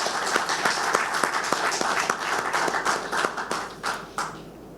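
An audience claps for Mauritian artists at a final integrity speech contest in Mauritius, dense, steady applause filling the whole stretch, close and loud, with sharper individual claps standing out before it thins slightly at the end.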